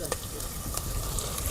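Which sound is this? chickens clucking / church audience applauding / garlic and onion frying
garlic and onion frying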